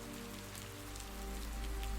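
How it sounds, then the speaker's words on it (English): Light drizzle falls steadily in a quiet forest setting, a soft continuous patter of raindrops on surfaces, faint and unbroken, with no voices. "A light drizzle has begun."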